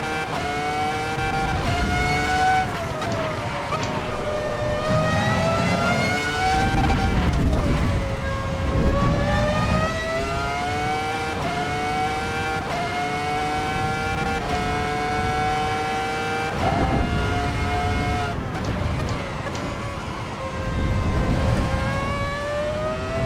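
A Ferrari F2004 Formula One car screams around the Nordschleife in the Assetto Corsa Evo racing game, its high-revving engine climbing through gears with sharp upshift drops and repeated surges, loud and continuous throughout.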